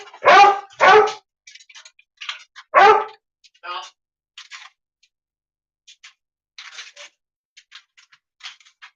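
Excited dog barking indoors, a few loud close barks followed by scattered fainter yips and whimpers.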